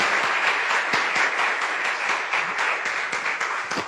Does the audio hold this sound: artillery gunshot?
no